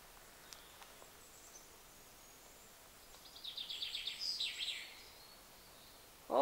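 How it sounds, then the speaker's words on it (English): Birds sing faintly outdoors on the coast, a short burst of chirping trills in the middle of a quiet, breezy background. "Do you hear the birds? Isn't that lovely?"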